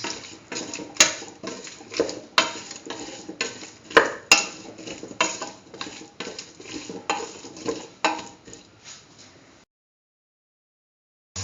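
A spoon scrapes and clinks rhythmically against a pot while spice mixture is stirred for a potato chayote stew, with steady close strokes for about nine seconds before falling silent.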